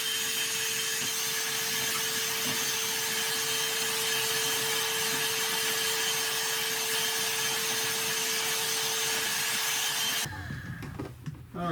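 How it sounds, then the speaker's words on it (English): A vacuum cleaner sucks fruit flies out of a worm bin, running as a steady loud whoosh with a constant droning hum for about ten seconds before cutting off abruptly. "so I'm going to vacuum these guys up"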